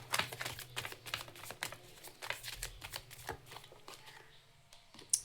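Tarot cards are gathered and handled in a run of quick, close, faint riffling snaps and light slaps, heard alone with no talk.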